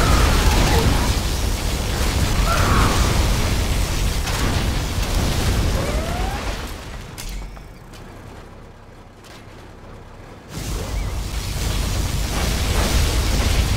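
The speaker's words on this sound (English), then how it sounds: "Enemy Black Lotus detected. Particle cannon activated." Particle cannon blasts in a strategy video game erupt as a loud, roaring rumble of explosions that thins into a quieter lull, then surges back to full, dense booming.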